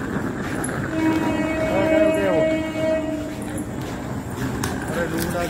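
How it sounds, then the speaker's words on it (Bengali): A train rumbles in with a long, drawn horn blast in the middle, and people talk over the busy station noise. "এই যে ট্রেন ঢুকে গেছে।"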